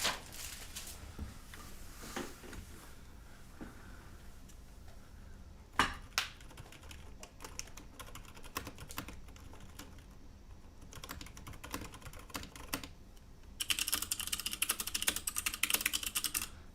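Quiet typing on an MK Fission keyboard fitted with Cherry MX Silent switches, soft muted keystrokes in irregular bursts, with a denser, brighter flurry of clicks near the end.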